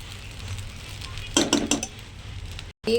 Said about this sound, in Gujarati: બોઇલ રાઈસ નાખ્યા પછી એને આવી રીતે પ્રોપર મિક્સ કરવાનું